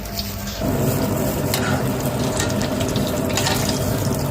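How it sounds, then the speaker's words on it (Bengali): An iftar snack fries in hot oil over low heat, a steady close sizzle that swells suddenly as it starts, with occasional stirring and scraping sounds. "এখন তেলে ফ্রাই করে দেখাবো এটার কালারটা কত সুন্দর হয়।"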